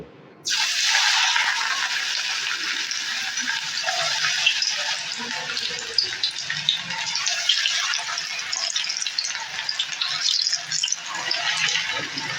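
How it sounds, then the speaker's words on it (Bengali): Mustard flower fritters drop into hot oil and start frying with a sudden loud rush, then settle into a steady close crackling hiss. "এখন আমি সর্ষে ফুলের বড়াগুলোকে ভেজে নেবো"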